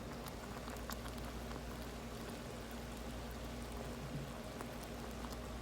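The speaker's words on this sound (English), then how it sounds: "You can hear them popping" Cranberries cooking in a pot on a stovetop, a faint steady bubbling simmer with scattered soft pops and patter.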